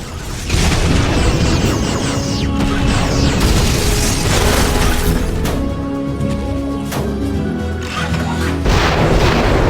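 Rocket charge explosions in the Wii video game Phineas and Ferb: Across the 2nd Dimension, loud repeated booms and crashes over a dense, busy game soundscape with mechanical clatter, continuing without pause.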